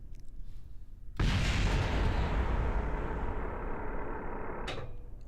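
A rocket explodes on the launch pad in Kerbal Space Program, a sudden heavy blast followed by a long roaring rumble that slowly fades, with a sharp crack near the end.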